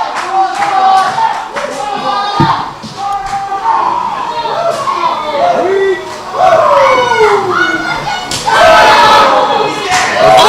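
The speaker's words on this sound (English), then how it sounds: "And listen to this Paulsboro crowd" A Paulsboro wrestling crowd at a live pro wrestling show roars and shouts in loud, continuous waves, with chants and yells swelling and a sharp thud from the ring partway through, and a commentator talking over it.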